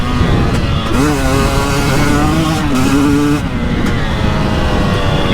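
A KTM 300 XCW TPI two-stroke dirt bike engine runs close by, with a loud, buzzy tone that rises and falls through short revs and no talking.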